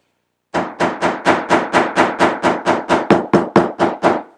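Steady series of light hammer taps on leather, about fifteen evenly spaced strikes, close and crisp with no talking.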